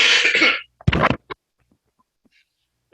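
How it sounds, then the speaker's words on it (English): A single harsh cough bursts out after some faint background noise, followed by near silence. "Sorry for the cough."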